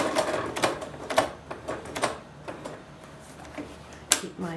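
A sewing machine stitches with its needle in short bursts of rapid mechanical clatter, separated by pauses. The stitching is close and fairly loud, and a final sharp burst comes near the end.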